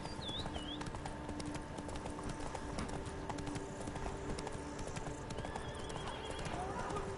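Hooves of Roach, a horse in The Witcher 3 video game, clip-clop steadily in a galloping rhythm throughout, with a whinny near the start over an outdoor game ambience.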